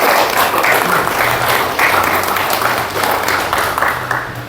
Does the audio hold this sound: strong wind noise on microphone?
no